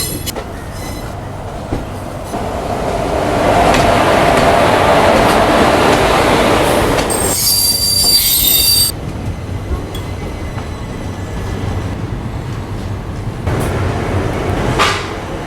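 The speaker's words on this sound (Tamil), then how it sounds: "one 2695 Chennai Thiruvananthapuram super fast வெளியே வருதுங்க" The Chennai–Thiruvananthapuram superfast express rolls past close by, its loud rumble of coaches and rail noise swelling and holding steady, with a brief high wheel squeal partway through.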